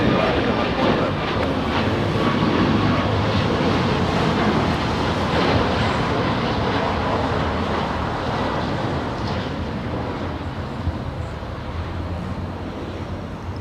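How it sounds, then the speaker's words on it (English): An Alaska Airlines Boeing 737 MAX 9 taking off from LAX, a loud broad engine roar sustained through the clip and slowly fading toward the end. "Next takeoff, racing down the runway. We have Alaska 1147 flying to Seattle, Washington. A 737 MAX 9 this time."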